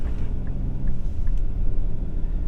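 Low road rumble and a steady engine hum fill the cabin of a 2025 Infiniti QX80 Autograph SUV as it takes a turn at about 20 mph, with faint light ticks above.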